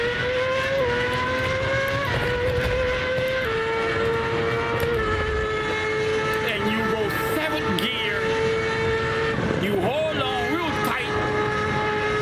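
Inside the Assetto Corsa racing game, a race car's engine climbs through the revs, shifts gears and accelerates again, a loud, tonal whine that steps down and climbs repeatedly, while a voice talks over it.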